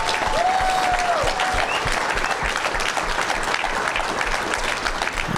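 Steady, dense clapping from a crowd at an awards banquet fills the whole stretch at an even level, with a brief whistle near the start.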